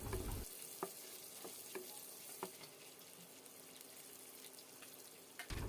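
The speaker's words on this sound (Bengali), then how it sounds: "মিডিয়াম ফ্লেমে এই পেঁয়াজটাকে লালচে বাদামি রং আসা পর্যন্ত ভালোভাবে ভাজতে হবে।" Chopped onions frying on a medium flame, a quiet steady sizzle with a few light scraping taps of a spatula scattered through.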